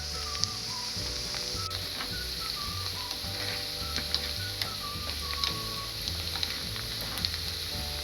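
A few cloves of garlic hit hot oil in a pan for moong dal, giving a loud, steady frying sizzle that carries on without pause, with faint scattered chirps in the background.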